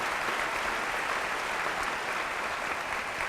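Audience applause for a museum representative at a school district event, a faint, even hiss of clapping that holds steady throughout with no talk.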